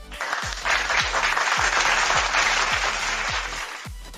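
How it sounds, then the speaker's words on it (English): A crowd applauding steadily with dense clapping, loud and continuous, with faint low thumps recurring underneath. "Applause."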